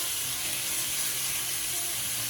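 Ground beef sizzles on a hot Blackstone griddle, a dense, continuous hiss heard close and steady throughout.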